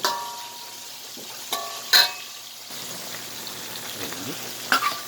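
Green papaya with sardines and ginger sautés in a pan with a soft, steady sizzle, broken by a few sharp clanks of a utensil stirring against the pan.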